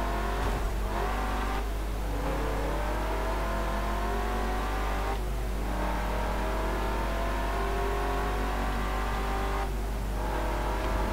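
A Shelby Cobra racing in Forza Motorsport 7, its engine droning loud and steady throughout, rising in pitch, with a few short dips in revs at gear shifts and no talk over it.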